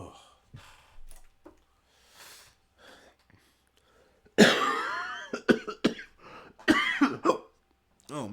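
Quiet breathy sounds give way to a burst of harsh, throaty coughing and sputtering, several rough coughs in quick succession, near and fairly loud.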